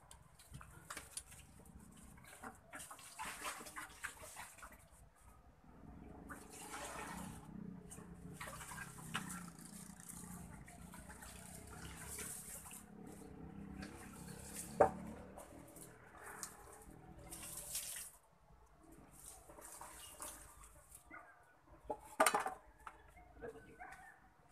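Liquid EM4 is poured into fermenting chicken feed, producing a faint, continuous trickling and splashing with some soft handling noises in a quiet setting.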